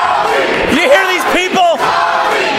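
A wrestling arena crowd at a UWA Elite event roars and cheers loudly and continuously, with individual voices shouting and whooping out above the dense crowd noise.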